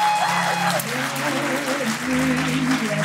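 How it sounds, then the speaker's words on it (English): A crowd at a design event applauds warmly, sustained clapping from many hands, while music with a singing voice plays along beneath. "That was a big round of applause one more time."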